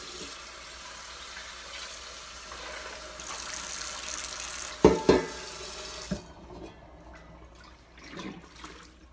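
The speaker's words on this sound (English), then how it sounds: "I'm going to drain these now." Hot water from blanched broccoli pours into a strainer in a kitchen sink: a rushing, hissing flow for several seconds, a few sharp splashes and clunks, then quieter trickling and drips.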